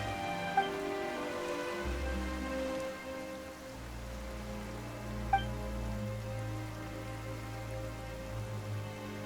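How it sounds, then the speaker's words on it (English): Rain falls in the video game Genshin Impact, a steady even hiss of drops on surfaces under low sustained music tones, with a couple of faint chimes and no talk. "Why is it raining all of a sudden?"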